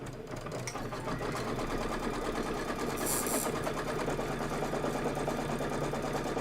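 An embroidery sewing machine stitches a tack-down line on background fabric, its rapid, even needle rhythm humming steadily up close with no talking.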